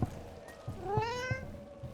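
White cat in Dragon Age: The Veilguard meowing while being petted, a single drawn-out rising meow amid soft thumping game sounds, close and clear with no talking.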